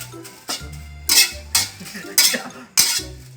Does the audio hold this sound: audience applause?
no